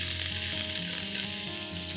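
Roughly cut red onions fry in hot vegetable oil, a dense, loud, continuous sizzle heard up close with no speech.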